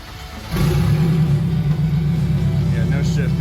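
Turbocharged K24 engine in a Honda Civic EK coupe catching and starting abruptly, then settling into a loud, close, steady rumbling idle with slight surges, under a voice speaking briefly.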